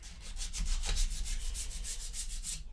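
Steady rhythmic rubbing of sandpaper on wood, close and fairly loud, with regular back-and-forth strokes and no talking.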